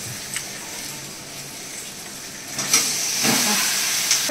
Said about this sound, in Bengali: পেঁয়াজ টমেটোটা ভাজা ভাজা হয়ে গেছে, এবার চিকেন যেটা মেখে রেখেছি সেটা দিয়ে দেবো।